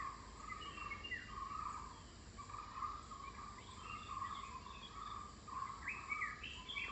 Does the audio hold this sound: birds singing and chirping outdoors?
yes